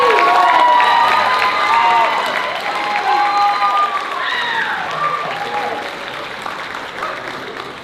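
Film assembly audience applauding and cheering, a dense wash of clapping with scattered shouts and excited voices, loud at first and easing slightly over about eight seconds.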